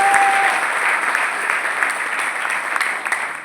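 Crowd applause at a political gathering, a loud, dense wash of clapping from many hands that holds steady and slowly thins toward the end.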